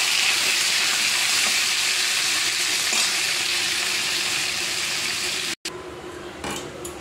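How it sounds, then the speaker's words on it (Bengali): Cut potatoes and onions hit a hot kadai and fry with a loud, dense, steady sizzle. The sizzle cuts out for an instant near the end, then carries on slightly softer. "এবার কেটে রাখা আলু পেঁয়াজটা দিয়ে দিলাম।"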